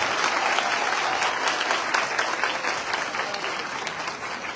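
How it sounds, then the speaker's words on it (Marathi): An audience applauds loudly at a welcome ceremony for Manoj Jarange Patil, with dense sustained clapping from a large crowd that holds steady and then eases slightly toward the end. "जोरदार टाळ्या झाल्या पाहिजे."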